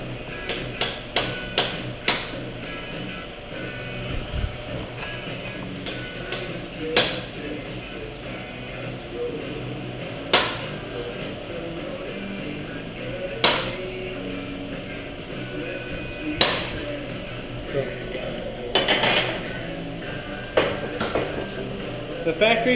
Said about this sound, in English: I staked the nut twice so I can reuse it.